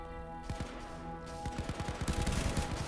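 Sniper and other gunfire in the Roblox heist game Notoriety, with a rapid string of sharp shots and bursts over steady game music, getting denser toward the end.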